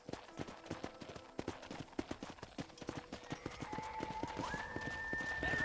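Horse hooves clip-clop in the video game Red Dead Redemption, a close, steady trotting rhythm of sharp knocks throughout, joined near the end by a rising sustained tone under the hoofbeats.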